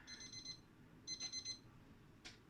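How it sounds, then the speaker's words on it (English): A kitchen timer alarm goes off while baking, rapid high-pitched electronic beeping in short bursts, a first burst, a pause, then a second burst, fairly quiet and alone in a still room. "The alarm went off, and that means that the base should be done."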